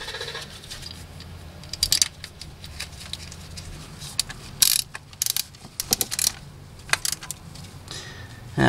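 A hand ratchet snugs ignition coil bolts on a 2004 Toyota Tundra, giving close, irregular bursts of sharp metallic clicks separated by brief pauses.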